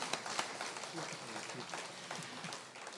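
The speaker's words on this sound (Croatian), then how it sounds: "Može, može, aplauz." A small audience at an a cappella evening in Osor claps for a singing group, a fairly faint patter of hands with sporadic sharper claps over a quiet room.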